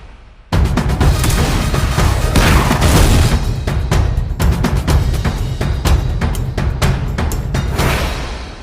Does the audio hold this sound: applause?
no